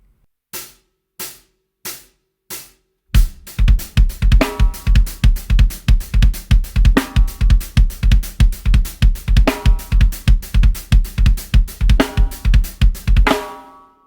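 Four stick clicks count in, then a bass drum thumps in a quick, steady repeated pattern, close and loud, with occasional cymbal accents, playing the right-foot part of a song.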